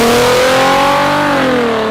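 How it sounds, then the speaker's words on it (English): Loud exhaust note of a car revving, engine pitch rising then easing slightly, a sustained close roar with no voices. "Not the car specifically, but more so the exhaust system."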